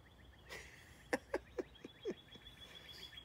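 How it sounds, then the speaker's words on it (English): Birds singing outdoors, a handful of faint, short chirps spaced about a second apart over a quiet background. "I hear the birds"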